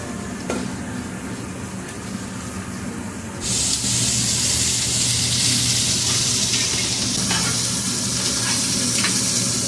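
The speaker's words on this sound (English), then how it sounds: "So we're going to start throwing all this onto a griddle." Vegetables frying on a wide griddle, a loud steady sizzle that jumps sharply louder a few seconds in as more food hits the hot surface, then holds as a dense continuous hiss.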